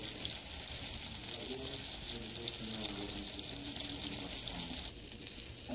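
Bacon-wrapped meatloaf patties frying in a pan, giving a steady, continuous sizzle and crackle of hot grease that holds at an even level throughout with no talking.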